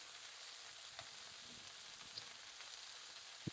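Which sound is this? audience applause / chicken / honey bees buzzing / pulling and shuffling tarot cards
chicken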